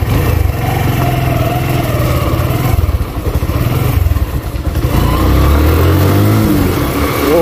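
A Suzuki Gixxer 125 motorcycle is ridden with its engine droning loud and close, dipping briefly midway, then revving up with a rising pitch as it accelerates.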